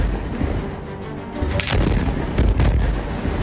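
Israeli artillery fires in Gaza: loud, rumbling booms and sharp blasts roll through a dense low roar, with several heavy impacts landing close together and no voices.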